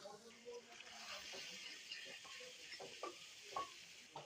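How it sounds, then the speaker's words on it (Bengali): Onion paste frying in a pan gives a soft, continuous sizzle with the scrape of stirring, quiet and close, running the whole time without talk. "পেঁয়াজ বাটা ভাইজে নেব, সুন্দর করে ভাজা হয়ে যাবে।"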